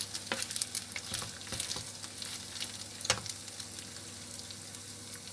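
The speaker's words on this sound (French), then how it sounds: "Donc, comme vous voyez, je fais frire mon riz." Rice frying in hot oil in a pan, a soft continuous sizzle close up, punctuated by irregular scraping and clicking strokes of a spoon stirring the grains.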